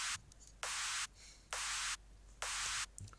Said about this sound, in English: Pretty long clap from Vengeance as well.